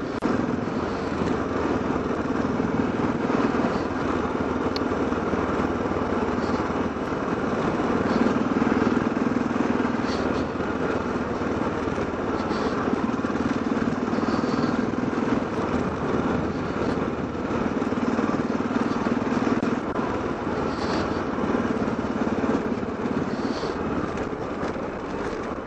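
Motorcycle riding along a rough road in Mongolia, a steady loud engine drone with wind rush running continuously without breaks, no voices heard.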